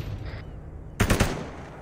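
Gunfire in the video game Arma 3, a quick burst of two or three loud sharp shots after a second of low background rumble, then fading.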